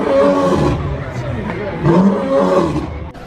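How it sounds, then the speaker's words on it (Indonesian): A lion roaring sound effect: a deep, rumbling, growling roar that swells and fades over a few seconds, loud and close, with a second surge near the end. "singa yang mengaum dengan keras"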